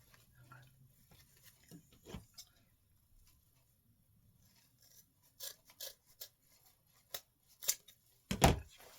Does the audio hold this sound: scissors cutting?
yes